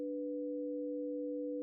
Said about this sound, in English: what I have here is I have just like two sine waves